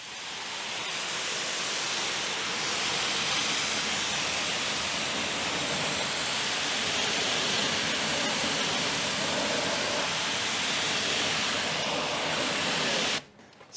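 A 2,300 PSI pressure washer sprays a car wheel while detailing a widebody Saab, a loud, steady broadband hiss running continuously for about thirteen seconds before cutting off abruptly at the end.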